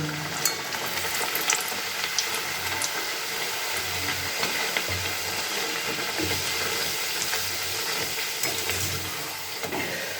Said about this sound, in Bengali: এইভাবে পুরীগুলোকে ভেজে নিচ্ছি